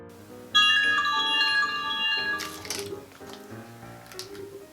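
A bright chiming notification bell plays a short melodic jingle of ringing tones, followed by a few quicker, fainter clicks and tinkling notes that fade out.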